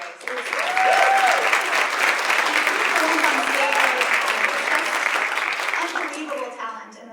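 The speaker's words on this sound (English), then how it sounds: "I want to first of all echo just another round of applause" An audience at an opening night theatre event applauds the playwrights in a long, dense, steady wash of clapping that tapers off toward the end, with some voices mixed in.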